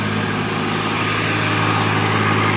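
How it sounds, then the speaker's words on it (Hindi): A tractor engine runs at a site where mud mortar is being mixed, a steady, loud, low diesel drone with a constant chugging throb and no pauses. "वो ट्रैक्टर वहाँ स्टार्ट कर दिया दोस्तों।"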